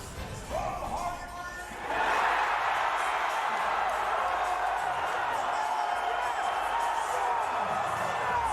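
A large arena crowd at Mohegan Sun roars and cheers for winner Matt Bessette after a Bellator MMA fight, a dense sustained wall of noise that swells after the first two seconds and holds steady, with a commentator's voice over it.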